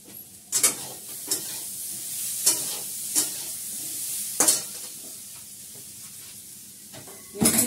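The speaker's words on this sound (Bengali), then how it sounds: "এখন ভালো করে কষাচ্ছি।" Food sautéing in a pan with very little oil, a low sizzle punctuated by several sharp scraping stirs of a spatula against the pan, close and without talk.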